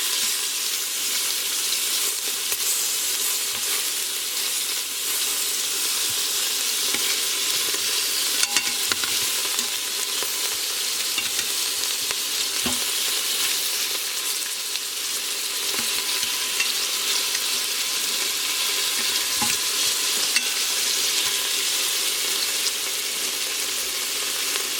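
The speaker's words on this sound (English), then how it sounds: "And this is in my Instapot, and it's on a saute setting" Beef browning in an Instant Pot on the saute setting makes a loud, continuous sizzle and crackle, with occasional stirring scrapes throughout and no talking.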